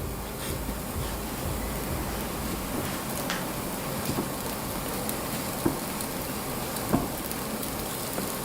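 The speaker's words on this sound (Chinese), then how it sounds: "翻面以后，继续中小火慢烙" Small dough cakes pan-frying over medium-low heat, giving a steady soft sizzle and crackle throughout with a couple of brief louder pops, no voices.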